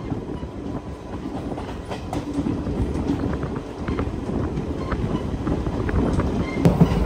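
The Venkatadri Express runs along the tracks near Tirupati with a loud, continuous rumble. Rhythmic clickety-clack of the wheels runs throughout, with nobody speaking.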